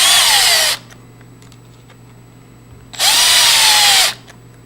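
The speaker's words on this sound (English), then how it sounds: "I use a drill driver just to speed things up" A drill driver runs in two bursts of about a second each, driving screws into a PLS Grade 2 entry-function lever lock. The bursts are loud and close, with a quiet pause between them.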